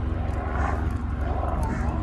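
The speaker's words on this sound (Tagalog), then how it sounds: "Oh, helicopter." A low, steady engine rumble of a helicopter passing overhead, continuous and moderately loud throughout the short stretch.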